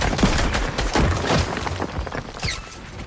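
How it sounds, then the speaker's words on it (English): Gunfire in the video game Fortnite OG, a dense burst of rapid shots and impacts that crackles loudly for about two seconds and then thins to scattered hits. "I got shot from the back"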